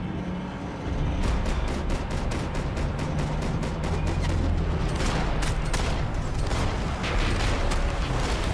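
Gunfire in the Max Payne 3 video game: sustained rapid bursts of shots with sharp repeated cracks over a dense, loud rumble that goes on for the whole stretch, with no voices.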